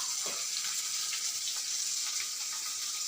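Gram-flour-battered pieces fry in oil in a home kitchen, giving a steady, fairly quiet bubbling sizzle with faint crackles throughout and no talk.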